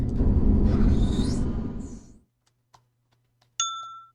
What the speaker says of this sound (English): We've got a bell, so we're facing north.